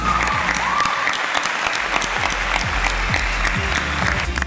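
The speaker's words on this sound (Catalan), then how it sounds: "Un fort aplaudiment que ho teniu ben merescut" Spirited applause fills a hall at a vocational school graduation ceremony as diplomas are handed out, dense steady clapping from many hands sustained throughout.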